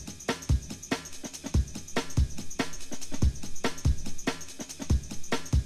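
One drum break layered over another makes a busy, driving loop of deep kicks, sharp snares and constant cymbal wash, repeating evenly with no voice.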